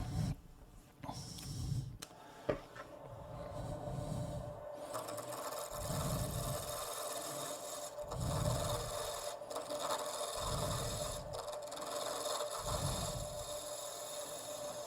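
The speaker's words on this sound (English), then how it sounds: "I'm just using my 1/8-inch parting tool to create the tenon" A 1/8-inch parting tool cuts a tenon into a wooden workpiece spinning on a lathe near the spur drive, giving a close, raspy scraping that rises and falls in regular repeated passes.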